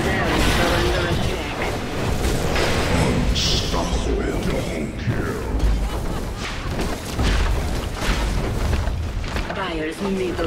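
Loud in-game Dota 2 explosions and crashing booms as the Dire middle barracks is destroyed, dense continuous rumbling and impacts throughout, with voiced announcer lines over the battle noise.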